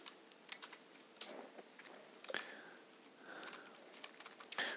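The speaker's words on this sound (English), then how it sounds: "So let's type in a couple different dates." Dates typed on a computer keyboard into an Excel spreadsheet, quiet, close keystrokes in irregular short bursts with small gaps.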